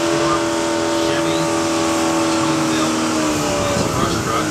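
A fire company brush truck rolls past in a parade, its engine a loud steady drone with a continuous hum, accompanied by an announcer's voice.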